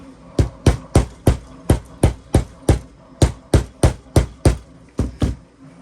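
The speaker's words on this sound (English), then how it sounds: "I use a little hammer." A small hammer taps sharply about a dozen times in a steady, even rhythm, each strike loud and close.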